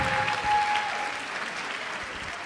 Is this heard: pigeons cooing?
no